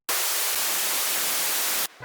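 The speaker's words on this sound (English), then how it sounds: "I took just a layer of white noise that plays the whole time." Steady, bright white noise hisses loudly and evenly for almost two seconds as a sustained layer in a future house music production, cutting off abruptly at the end.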